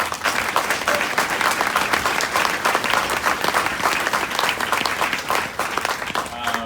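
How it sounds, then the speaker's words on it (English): Loud, sustained applause from a crowd fills the room, dense and steady throughout, with a few voices mixed in near the end. "I want to give a round of applause to all of our students"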